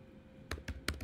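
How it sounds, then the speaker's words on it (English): Four crisp keystrokes on a computer keyboard, close and clear, tapped in an uneven rhythm over quiet room hum while a Python command is typed into a terminal. "So you're going to start typing out Python"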